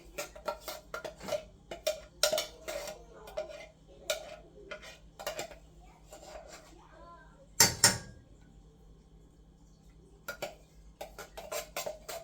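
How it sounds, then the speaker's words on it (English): Metal kitchen utensils clink and rattle as a spoon is picked out from among them, with scattered close clicks and ticks and one louder clatter in the middle. "Grab a"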